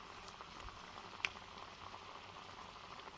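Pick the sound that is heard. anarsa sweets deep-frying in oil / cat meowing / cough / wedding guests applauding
anarsa sweets deep-frying in oil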